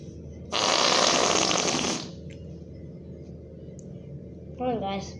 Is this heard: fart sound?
yes